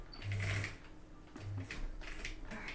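A sewing machine stitches a diagonal line across a houndstooth skirt in two short bursts of rapid mechanical whirring, separated by a brief pause with faint handling sounds, close and moderately quiet.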